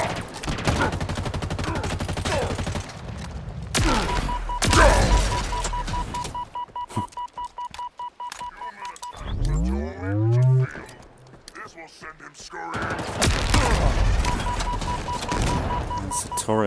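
Turret gunfire in Halo Infinite on Legendary difficulty rattles in loud, sustained bursts that stop and start, with heavy booming impacts and a rising whine mixed in amid game sounds.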